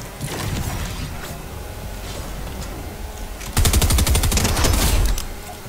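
Rapid bursts of gunfire from the video game Fortnite Zone Wars, with scattered shots early and then a dense, loud, fast-repeating volley near the end before it cuts off.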